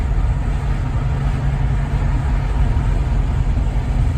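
Ford Falcon engine cruising at about 2,000 RPM, a steady deep droning hum with road noise inside the car, constant and loud throughout.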